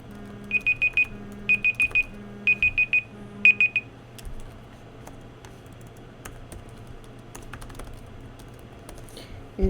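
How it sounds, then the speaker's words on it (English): A timer alarm beeps in four quick bursts of rapid chirps, then falls silent, leaving faint keyboard typing and a low background hum. "timer should be going off here pretty quick"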